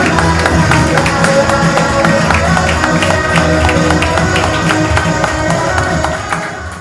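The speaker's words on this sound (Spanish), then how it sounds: "¡Aplaudan que vive!" Church congregation applauding steadily at a lively service, a dense loud wash of clapping with rhythmic accents that holds throughout and eases off slightly at the end.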